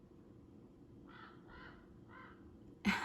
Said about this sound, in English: I believe the crows are agreeing with me that one should be inspired by the divine